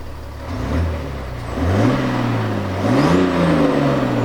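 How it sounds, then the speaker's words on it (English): A BMW X5 with a 3-liter engine in normal exhaust mode, accelerating in rising and falling pulls with a steady mid-pitched drone and a smooth whir, loud and close with no talking. "let me show you how the exhaust sounds quickly. So this is in normal mode"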